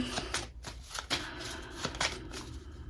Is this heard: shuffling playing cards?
yes